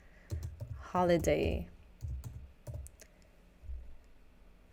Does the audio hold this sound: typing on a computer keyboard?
yes